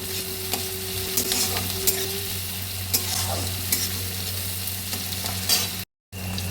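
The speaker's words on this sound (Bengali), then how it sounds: "পেঁয়াজ ভাজার মধ্যে টমেটোটাকে দিয়ে দিলাম, দিয়ে একটু নেড়ে চেড়ে দিলাম।" Chopped tomato is stirred into frying onions in a pan, with a constant sizzling hiss and a low steady hum, broken by irregular scraping strokes of a spoon. The sound cuts out briefly near the end.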